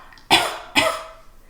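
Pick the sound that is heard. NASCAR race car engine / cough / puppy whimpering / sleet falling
cough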